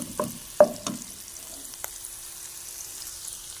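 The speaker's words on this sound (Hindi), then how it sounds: "इसमें चला गया लहसुन अदरक का पेस्ट। एक मिनट तक इसे सोते करेंगे।" Garlic ginger paste sautéing in a pan for macaroni, with a soft, steady sizzle throughout and a few sharp stirring scrapes near the start, close and fairly quiet.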